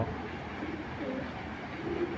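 Soft, low cooing from racing pigeons comes in short murmuring phrases over a faint background hum, fairly quiet and with no one talking.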